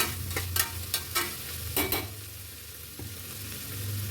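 Tomato frying in a pan while an avarekalu palav is being cooked, giving a steady sizzle with several stirring scrapes in the first two seconds, close and fairly loud, with no voices.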